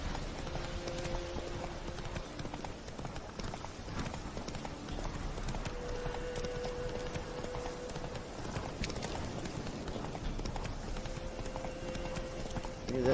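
The horse Roach clip-clops along in The Witcher 3, a steady rhythmic run of hoofbeats close by and continuous, with a faint musical score underneath.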